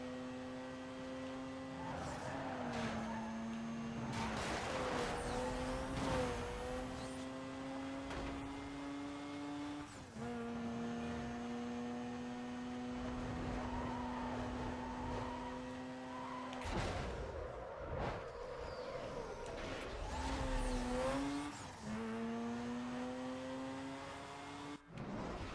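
Race cars in Need for Speed Most Wanted (2005) roar through close racing, engines holding a steady drone and revving through repeated gear shifts, with one car's pitch dropping and climbing again, loud and continuous.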